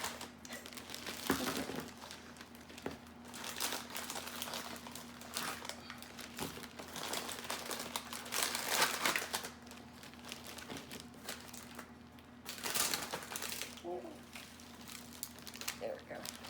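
An Oreo cookie package crinkles and rustles in bursts while being emptied into a gallon zip bag, the crackling plastic close and ongoing with a person talking over it.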